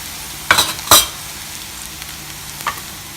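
Poha upma being stirred in a pan, two sharp scraping clatters of a spoon against metal followed by a softer scrape, over a faint low sizzle.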